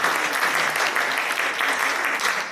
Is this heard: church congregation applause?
yes